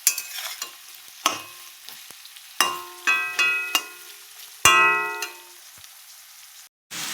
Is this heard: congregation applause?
no